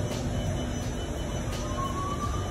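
Steady low rumble of a Singapore subway train in motion with a faint rising whine, continuous and fairly loud throughout.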